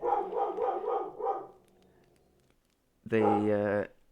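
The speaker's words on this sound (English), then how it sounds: "Excuse me for the dog." A dog barks indoors in a short burst of loud, close barks near the end, after a voice talks through the first part.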